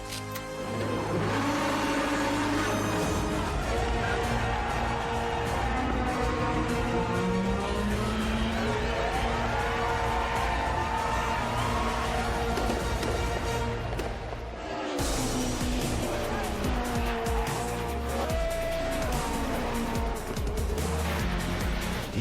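A Mercedes-AMG racing car, once a real race car, drives in a sim racing game during an eRacing competition. The engine drones loudly and steadily for the whole stretch, with brief tire squeals under dense tonal layers.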